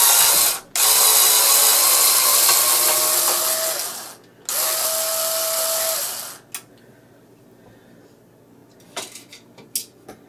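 A ratchet tool works a small-headed latch screw during reassembly of an SK326. Two long, loud buzzing runs with a thin steady whine are followed by scattered short clicks and taps.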